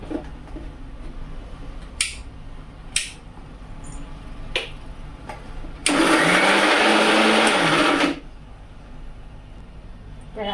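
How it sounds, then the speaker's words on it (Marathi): Kitchen mixer grinder whirring loudly for about two seconds as it grinds garlic and ginger for chutney, with sharp clicks and taps before it starts and a speaking voice nearby. "आता याला बारीक वाटून घ्यायचं आहे बारीक वाटून घ्यायचं"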